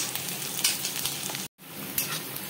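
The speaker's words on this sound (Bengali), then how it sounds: "পেঁয়াজটাকে দিয়ে হাই ফ্লেমে আমি পেঁয়াজটাকে ভাজতে দিয়েছি" Onions and slit green chillies fry in butter over a high flame, giving a close, continuous sizzle with light stirring and a brief break in the sound.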